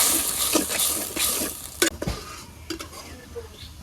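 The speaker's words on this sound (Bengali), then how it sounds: "এবার চিংড়ি মাছ ভুঙিয়ে নেই" Prawns frying in a pan with turmeric, chili powder and salt, a low sizzle broken by several sharp scrapes and clinks of a spoon against the pan, close by, with no clear talk.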